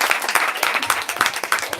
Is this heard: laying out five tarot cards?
no